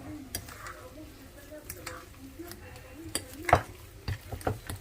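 Egg beaten together with grated cheese, parsley and pepper in a bowl, giving soft intermittent stirring scrapes and a few light clinks of utensil on dish, quiet and close.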